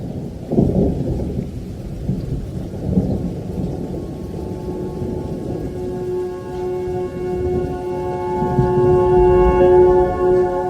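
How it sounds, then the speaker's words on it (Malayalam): Deep thunder rolls and rumbles through steady rain in Salalah, Dhofar, Oman, with low, booming swells rising and fading over the continuous hiss of falling water. "സലാലയിൽ മഴ സ്റ്റാർട്ടായിട്ടുണ്ട്."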